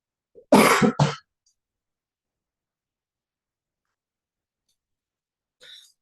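A single person coughs twice in quick succession during an online webinar, a short, close, dry burst followed by silence.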